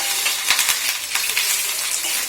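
Curry leaves sizzle in hot oil for a tempering, a loud, steady, close crackling hiss with small popping spikes throughout.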